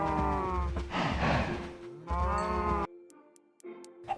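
Loud, drawn-out cow moos in a video game, one after another, then a quieter stretch with a final shorter low call.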